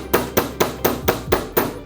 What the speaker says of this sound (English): So I'm going to hammer the end.